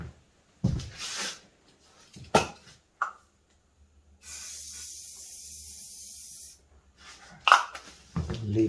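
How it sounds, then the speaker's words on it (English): Spray bottle misting water over a painting in progress: several short hissing bursts, then one longer sustained spray of about two seconds, followed by more quick squirts, close to the microphone. "Okay, I think it's time to give it a spray."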